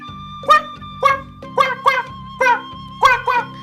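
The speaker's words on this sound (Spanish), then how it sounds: "aunque suene más a un perro, es un pato, ¿verdad? Es cuá, cuá, cuá." Recorded duck quacks sound much like a dog barking: about seven short, sharp calls come in an uneven rhythm over a faint steady background tone.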